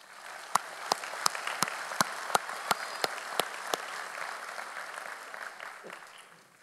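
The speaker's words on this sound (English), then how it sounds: "So let's give them all a round of applause." Applause fills a university commencement hall, with one close, sharp clapper beating a steady rhythm over softer crowd clapping that gradually fades toward the end.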